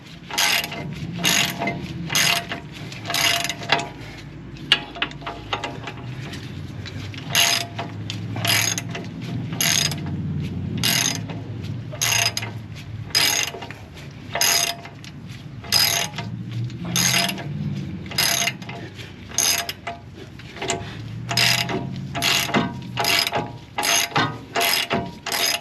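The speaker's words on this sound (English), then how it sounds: "A 1/2-inch drive ratchet, that is." A 1/2-inch drive ratchet turning a ball joint nut on a 2003 Dodge Ram 1500: a loud, close, rapid clicking of the pawl in repeated bursts, with brief pauses and a soft metallic rumble as the nut turns. No one talks.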